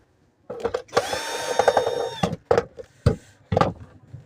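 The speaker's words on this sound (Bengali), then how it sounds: "আমি একে একে নাটগুলোকে খুলে নেব।" Nuts being unscrewed from a mixer grinder during repair, heard as a whirring, power-tool-like spin followed by several sharp metallic clicks and knocks at close range, with no talk.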